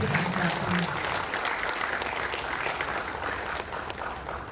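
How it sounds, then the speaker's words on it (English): Audience applause rings out at the launch ceremony of a floriculture mission, a steady wash of clapping from a crowd held at an even level throughout. "A big round of applause."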